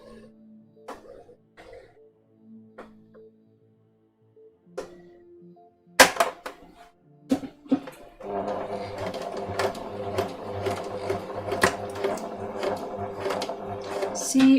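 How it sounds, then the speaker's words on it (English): A sewing machine stitches a waistcoat, first with scattered clicks and taps, then a steady, fairly close mechanical whir running continuously through the second half. "Let's just give this a quick stitch."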